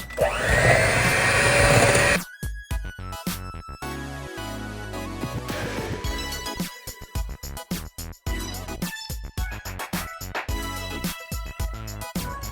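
Electric hand mixer beating packed light brown sugar into cookie dough, a loud continuous whir for a couple of seconds, then stopping, followed by clattering and scraping in the bowl.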